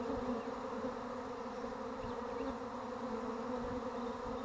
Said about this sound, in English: I'll let these bees settle down just a little bit, and then we're going to put them in a hive box.